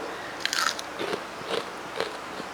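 Crisp bites into a deep-fried potato, carrot and onion vada, four sharp crunchy bursts spaced about half a second apart, close and fairly quiet with no talking.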